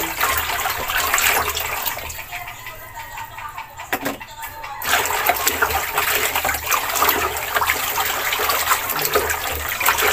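Bluing dye being stirred into a basin of water to whiten laundry, a steady close sloshing and swirling of water with a short dip in the middle before the churning resumes.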